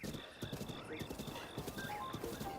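Horse hooves clip-clopping in a steady trot through the Lost Woods in Zelda: Breath of the Wild, with a neigh partway through and game music and chimes layered over it.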